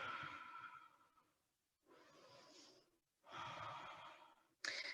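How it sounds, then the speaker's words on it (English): Slow, deep breaths during a yoga session: a long exhale, then a softer inhale and another full exhale, each drawn-out rush of air close and quiet, ending with a sharper intake. "Inhaling deeply and exhale deeply"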